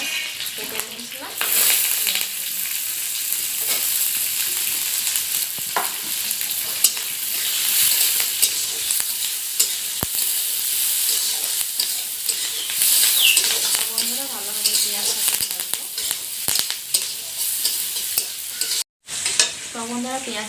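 Onions frying in a pan for an egg curry, with a steady loud sizzle across the whole stretch and frequent stirring scrapes and clinks close up, with no one talking.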